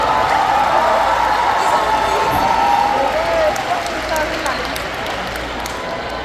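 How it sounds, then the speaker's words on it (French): Crowd applause and cheering for a cheer team at a competition awards ceremony in Quebec, a dense wash of clapping throughout with an announcer's voice over it. "Une bonne main d'applaudissement, round of applause for TR Cheer Coast."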